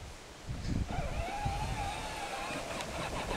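A child's ride-on toy car drives along with a thin, steady electric motor whine, quiet and close, over faint background noise.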